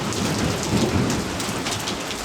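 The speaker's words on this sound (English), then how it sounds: "Here comes some more hail." Hail and heavy rain pounding down during a storm in Hudson Bend, Texas, a dense continuous roaring patter with low rumbling underneath, loud and steady throughout with no voices.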